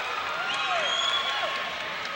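A home crowd at a 1989 college basketball game between Valdosta State and Troy State roars and applauds after a three-pointer, a steady, dense wall of cheering that fills the whole moment.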